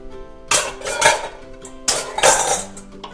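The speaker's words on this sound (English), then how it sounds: "Keep stirring until the vegetables are basically crisp tender" Vegetables with chopped basil stirred in a pot for spaghetti squash primavera, giving two bursts of scraping and clinking against the pot with quieter rustling between them.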